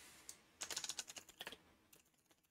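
Quiet, close clicking of keys on a computer keyboard, a quick burst of a dozen or so keystrokes followed by a few softer taps, alone without talk.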